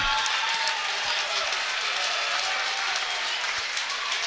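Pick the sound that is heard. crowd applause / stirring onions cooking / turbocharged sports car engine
crowd applause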